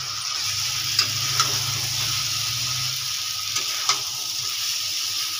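Eggs sizzling as they fry in a pan, a continuous bright crackle with a few soft clinks of a utensil, close and steady with no talk over it.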